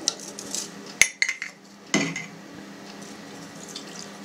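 Spoon scraping and clinking against a metal pot while salted cheese curds for chechil cheese are stirred, a few sharp knocks followed by quieter scraping and a faint watery background.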